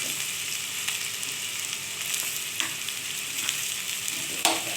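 Potatoes with spices, sugar, salt and a little chilli fry in a pan with a steady close sizzle, broken by the light scrape and clink of stirring now and then.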